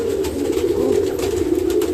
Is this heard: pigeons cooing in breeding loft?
yes